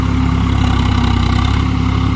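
2022 Swaraj 744 XT tractor with a 3478 cc engine pulling a rotavator in third low gear at about 1400 RPM, a steady, loud, low diesel drone with a throbbing pulse, heard alone.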